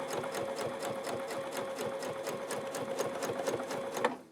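A sewing machine quilting a feather border stitches in a fast, steady rapid ticking at close range, running evenly and then stopping abruptly at the end.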